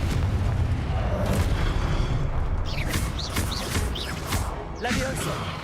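The Confringo blasting spell explodes in Hogwarts Legacy, a loud booming burst of game combat with sustained rumbling and crackling debris, thick and continuous, with sharp sweeping spell effects layered on top.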